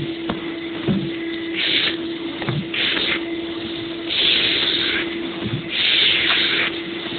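A professional mattress deep-cleaning machine runs with a steady motor drone and tonal hum, punctuated by repeated loud hissing bursts of spray or suction as it passes over the mattress, close and continuous.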